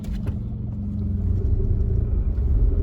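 A car in a driving lesson pulls away from standstill in first gear using clutch control, giving a steady, close low engine rumble that swells slightly as it moves off, with no talking.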